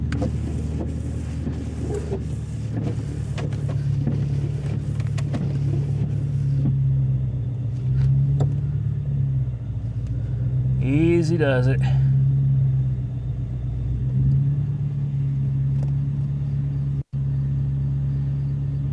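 A 1997 Ford Mustang GT fitted with an SLP Loudmouth exhaust, BBK X pipe and K&N cold air intake idles with a steady low rumble close to the microphone, while people talk over it briefly.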